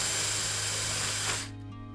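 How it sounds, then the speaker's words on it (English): A power drill bores a hole through a wall for running cables, a loud steady whine close by that stops abruptly near the end, leaving low hum. "I'm going to drill a hole here"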